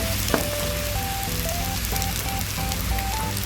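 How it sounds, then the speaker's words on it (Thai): Cooked rice stir-fries in a pan with soy sauce, a dense, continuous sizzle steady throughout, with a few faint tonal beeps riding over it. "ต่อไปก็จะเอาข้าวสวยลงค่ะ ปรุงด้วยซีอิ๊วขาว"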